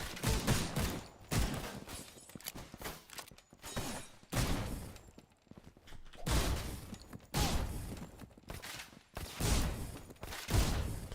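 Gunfire from a third-person shooter game under development, coming in several loud bursts of rapid shots separated by short quiet gaps, close and harsh.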